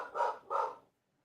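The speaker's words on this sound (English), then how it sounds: "That's my dog barking." Dog barking in two quick, muffled barks in close succession, moderately faint and followed by silence.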